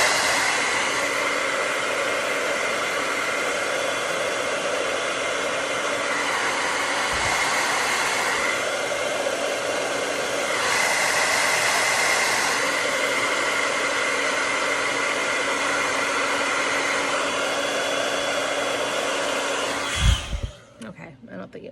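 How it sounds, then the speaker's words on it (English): A hair dryer blows on hair after overnight bathrobe-belt curls, a loud, close, continuous whooshing roar with slight pitch and airflow shifts as it moves, until it clicks off near the end with handling thumps. "So I'm gonna blow dry it for a second."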